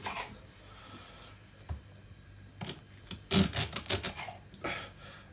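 A knife slicing the end off a plantain for Colombian patacones, heard as a few short, crisp cuts and taps on a board clustered midway, close and fairly loud against a quiet kitchen.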